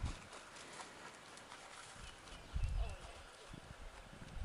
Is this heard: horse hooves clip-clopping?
yes